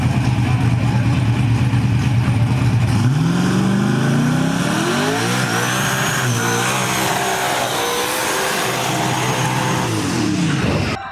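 A turbocharged Ford Mustang engine holds a steady idle, then revs up in a long rising sweep and settles at a higher drone. It is loud and close, and no one speaks.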